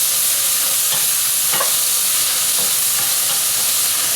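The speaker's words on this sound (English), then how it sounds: "And then we give a little stir." Kale braising in a pan with pink salt being stirred, a loud continuous sizzle and hiss with a few soft scraping strokes of the spoon, no voices.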